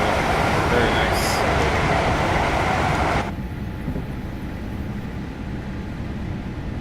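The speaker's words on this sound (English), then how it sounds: "Oh, there's a 390 there. Going at speed." A Class 390 train rushing past at speed in Train Simulator 2019, a loud dense roar that cuts off abruptly partway, leaving a lower steady rumble of the cab underneath.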